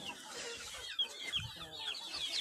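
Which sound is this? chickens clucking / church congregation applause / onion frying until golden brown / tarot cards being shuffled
chickens clucking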